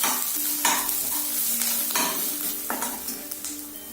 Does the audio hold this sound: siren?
no